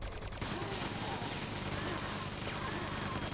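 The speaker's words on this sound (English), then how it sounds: "He comes back out of the lift with a grenade flying, but Nameless takes the frag back" Quake 2 tournament match with dense bursts of weapon fire and explosions, including grenades and rockets, rattling continuously at low level under a noisy game mix.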